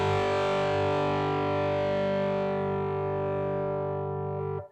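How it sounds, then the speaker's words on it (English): An electric guitar chord rings through an overdrive pedal, a single loud, distorted strum sustaining evenly for several seconds before being cut off abruptly at the end. "one other benefit of an overdrive pedal in general is you get a lot more sustain."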